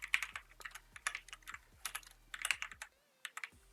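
Code being typed on a computer keyboard, with rapid uneven bursts of close, crisp key clicks, a short pause near the end, then a few more taps.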